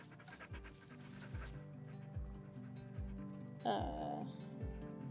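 A dog panting outdoors in a snowy Alaskan setting, a steady rhythmic run of breaths fairly close, with other background sounds around it.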